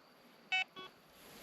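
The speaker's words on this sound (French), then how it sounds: "Faire un petit bip." Short electronic beeps from a carp fishing bite alarm being tested, two brief tones in quick succession, the first louder, standing alone against a quiet night background.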